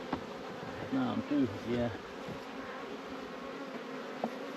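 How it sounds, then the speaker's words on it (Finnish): Honey bees buzzing around hive frames, a close and constant insect drone under a few quiet spoken words and light handling knocks. "Mehiläiset pois."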